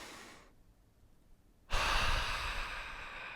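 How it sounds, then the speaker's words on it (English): A deep, drawn-out breath during a mobility recovery workout, a soft inhale that rises sharply into a loud, airy rush and holds steady to the end, close to the microphone with no talking. "Take a deep breath in here."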